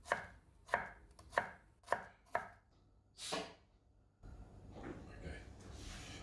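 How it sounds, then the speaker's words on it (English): A knife finely chops onions on a board in a run of five or six sharp, evenly spaced strikes, followed by a brief scrape and then a low background rumble. "I'm going to be chopping up some onions for the chickpea masala."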